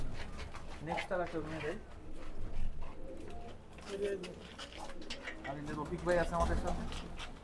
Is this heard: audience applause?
no